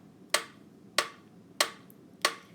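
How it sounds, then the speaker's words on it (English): Four crisp, evenly spaced unison claps from a grade-two class in a music lesson, each sharp and bright against a quiet room, about a second apart. "1, 2, now clap it out."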